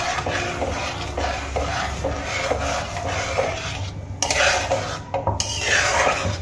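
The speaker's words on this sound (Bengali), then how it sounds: "এবার আমি খুব ভালো করে নাড়িয়ে চাড়িয়ে সুজিটাকে রান্না করে নেব।" Semolina stirred in water in a pot with a steady scraping, swishing rhythm, close and fairly loud, with occasional sharper scrapes against the pot's sides and no talking.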